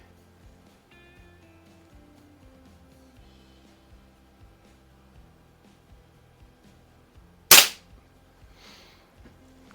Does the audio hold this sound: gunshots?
yes